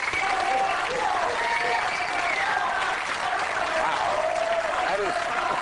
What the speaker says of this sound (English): That is the most applause a Republican ever got around here